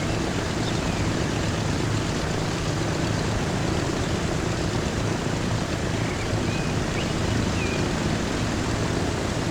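A propeller airplane in the video game Transport Fever 2 roars steadily while taking off, a loud continuous engine drone with a broad rushing wash that holds even throughout.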